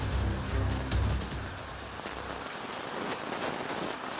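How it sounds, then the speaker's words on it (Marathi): Heavy monsoon rain pours down in Mahad, Raigad district, a dense, continuous hiss of downpour with a low rumble early on. "महाडमध्ये आपण बघतोय मुसळधार पाऊस सध्या बरसतोय"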